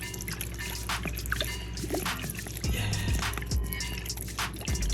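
Balsamic vinegar pouring onto a Greek salad, a soft continuous trickle and dribble of liquid close by, with a few faint thuds in the background and no talking.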